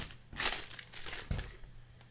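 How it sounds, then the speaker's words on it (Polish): Thin protective plastic film being peeled off a cheap watch, giving short close crinkling and crackling bursts in a quiet room with no talking. "Zmieniam sobie jeszcze tą folię."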